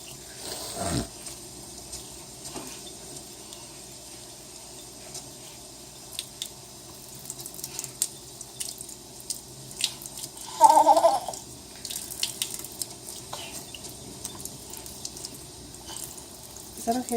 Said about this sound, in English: You get water everywhere.